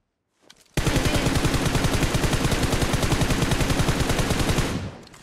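Rapid sustained automatic gunfire from an MG3 machine gun in the PUBG Mobile video game, a loud continuous burst lasting several seconds before cutting off, with no talking.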